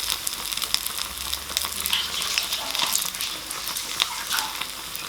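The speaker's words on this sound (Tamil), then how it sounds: "இப்போ வந்து 2-3 சேர்த்து அளவாக போட்டு பொரிச்சு எடுத்துக்க போகிறோம்." Potato bondas deep-frying two or three at a time in hot oil, giving a steady, close sizzle and bubbling crackle that runs unbroken throughout with no talking.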